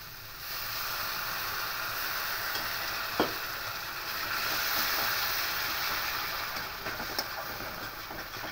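Water poured onto spice masala frying in oil for a yogurt egg curry sets off a loud, continuous sizzle up close. One sharp spit or splash stands out partway through.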